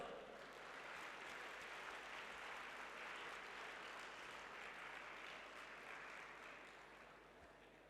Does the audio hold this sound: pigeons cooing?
no